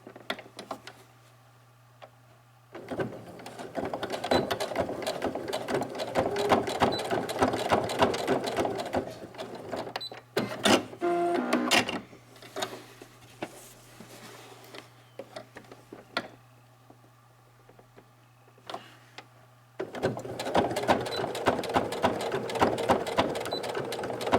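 A sewing machine stitches reinforcement across the top of a pleated cloth face mask's strap, running in steady mechanical bursts with brief pauses between passes, close and fairly loud with no talking.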